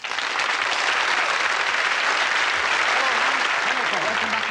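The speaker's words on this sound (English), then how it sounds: "Will you please give a round of applause for Hans Moretti?" Steady, dense applause from a theatre audience greeting a stage magician's entrance on a television magic show, loud and continuous throughout without a pause.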